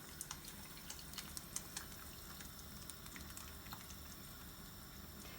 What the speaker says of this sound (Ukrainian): Все закипає